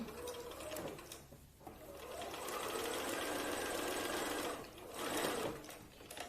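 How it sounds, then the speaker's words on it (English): A sewing machine stitches a pleat in a garment with a steady, fast mechanical whirr that runs continuously, dips briefly twice and then picks up again. The sound is close but recorded quietly. "So on this machine, I'm not going to move needle positions or anything, I'm just going to sew accurately."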